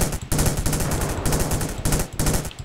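Rifle fire in the video game Ravenfield comes in loud, rapid automatic bursts, three or four stretches of continuous shooting broken by short pauses, close and dominant with no talk.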